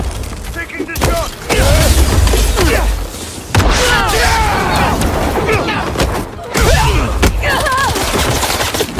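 Gunfire rings out in Spider-Man 2 on PC, with repeated bursts of shots and impacts over busy game action, loud and close, while voices talk and shout throughout.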